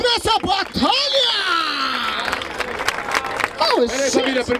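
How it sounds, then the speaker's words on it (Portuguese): An audience applauds at a rap battle event, with steady clapping and crowd noise under a loud voice that talks and shouts over it for several seconds. "Palmas pra essa batalha!"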